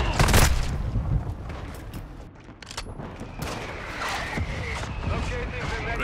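An artillery fire-mission strike in Call of Duty: Modern Warfare II lands as a loud burst of heavy blasts and rumbling gunfire, then quieter scattered explosions and crackle continue beneath game voices and radio chatter.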